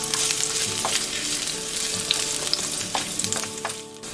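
Dried chillies, garlic and ginger fry in hot oil with a loud, steady sizzle, broken by scattered pops and stirring scrapes, then easing slightly at the end.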